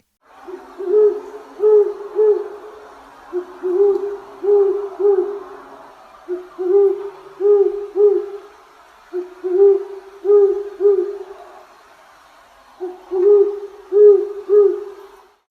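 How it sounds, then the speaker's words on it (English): A great horned owl hoots steadily in repeated groups of deep, soft hoots, with short pauses between phrases and nothing else around. "This is actually what the great horned owl sounds like."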